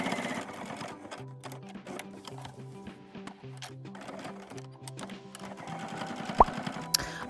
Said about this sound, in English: I like to get really close to the edge. Lengthen my stitch length to 3.